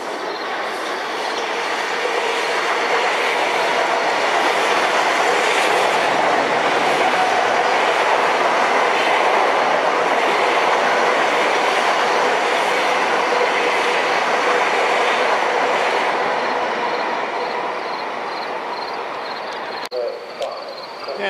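Long Island Rail Road commuter trains passing at rush hour, a loud sustained roar of wheels and cars on the tracks building and holding for about twenty seconds close by, with faint clatter near the end.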